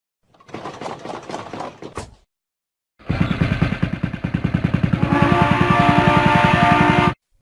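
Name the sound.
bus engine sound in a kids' educational video game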